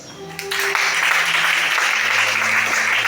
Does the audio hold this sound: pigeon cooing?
no